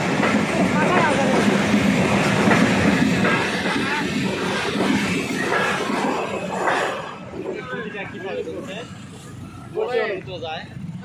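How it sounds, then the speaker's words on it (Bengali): A train rolls past at night with a steady, loud mechanical rumble and rattle that fades toward the end, while people talk close by throughout. "এই মতো ট্রেন দেখা হলো নাকি"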